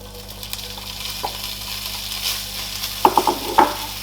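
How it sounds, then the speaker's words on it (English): Bacon goes into a pan on a medium-high stovetop, with a soft background sizzle and a few sharp clinks and knocks toward the end, close by and with no voices. "I'm going to add my bacon."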